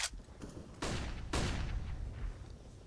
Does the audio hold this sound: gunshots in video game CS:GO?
yes